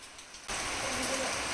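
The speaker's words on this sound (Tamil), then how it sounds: "ஈவினிங் எங்கள் வீட்டில் மழை சவுண்ட் கேட்குறீங்களா?" Evening rain outside a house: a dense, even hiss begins abruptly after half a second and continues steadily.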